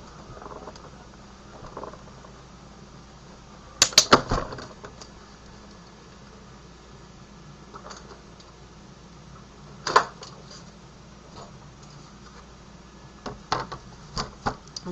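An electronic craft cutting machine slices shapes out of card stock, giving faint, sparse ticks and clicks with brief louder bursts over a quiet, steady background hum.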